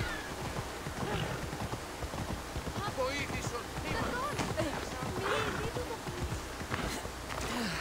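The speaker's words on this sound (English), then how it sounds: "Yeah, horse, he's starting to run over people in the city." Horse hooves clattering in a rapid galloping rhythm in the video game Assassin's Creed Odyssey, a busy city scene with ambient noise and a voice talking over the action.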